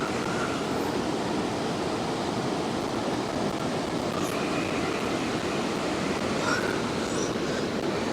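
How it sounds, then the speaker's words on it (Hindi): A mountain river rushes in a steady, loud, broadband roar of flowing water with no break, heard up close and alone. "देखो ऐसे नदी बह रही है पूरी"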